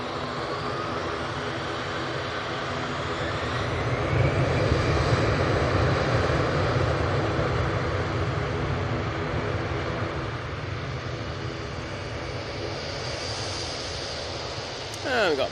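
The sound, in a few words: propeller aircraft approaching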